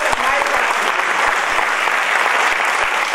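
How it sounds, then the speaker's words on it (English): An awards ceremony audience applauds steadily, a loud continuous wash of clapping from start to finish with no pauses. "I'd like the audience to join me in a round of applause for GCA."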